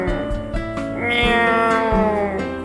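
A cat meows repeatedly in the video game Will: A Wonderful World, clear drawn-out cries over steady game music, close and fairly loud.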